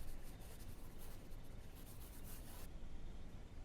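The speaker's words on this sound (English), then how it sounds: "let me just write that down" Pen scratching steadily across paper, close and quiet, a soft continuous rubbing scrawl with faint strokes over a hissy background that drops away near the end.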